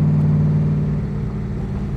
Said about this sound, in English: awesome, awesome exhaust system on this car. These side pipes just sound amazing.